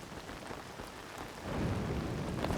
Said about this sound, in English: when you're gliding with the paraglider in the rain, you can hear the pitter-patter as it lands on it